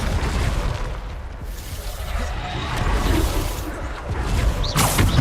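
A Bombarda spell explodes in Hogwarts Legacy, a loud, dense rumbling blast that fills the whole moment with booming noise and a whooshing burst near the end.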